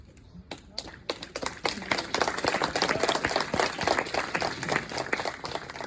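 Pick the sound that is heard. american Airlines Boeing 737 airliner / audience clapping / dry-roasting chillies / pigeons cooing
audience clapping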